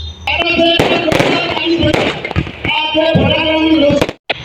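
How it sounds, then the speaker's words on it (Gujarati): Firecrackers at a village wedding: sharp bangs and crackling bursts go off in quick irregular succession, loud and close, over a dense noisy crowd background with raised voices. "તો મિત્રો લગ્નમાં અહીંયા ફટાકડા તો ફૂટે ચાલો તમને ફટાકડા થોડોક બતાવું"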